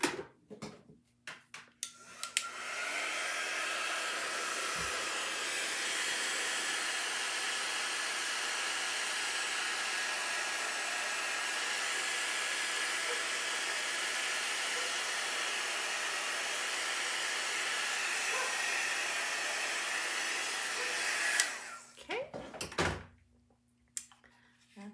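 A hair dryer blows steadily for about twenty seconds to dry a chalk couture craft project, with clicks and knocks as it switches on and off at either end.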